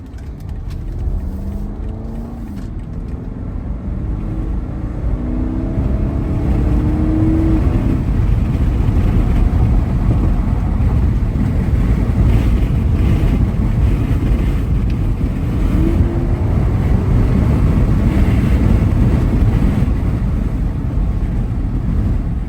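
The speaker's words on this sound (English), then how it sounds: "Let's see an acceleration clip." A 2019 BMW X7 xDrive50i SUV with a 4.4-liter V8 accelerates, giving a steady, loud engine roar with rising tones that holds for over twenty seconds, with no talk over it.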